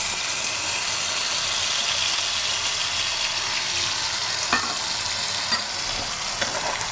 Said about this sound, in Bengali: এবারে বাটাটা খুব ভালো করে ভেজে নিতে হবে।